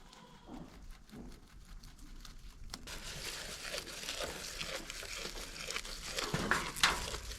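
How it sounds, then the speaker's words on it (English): Grass ripped up by hand on a farm to feed rabbits and goats, a steady crinkling, tearing rustle of pulled blades close by, growing denser and louder after a quieter start, with no talk. "I'm going to just kind of rip off a bunch of this grass, throw it in a bucket"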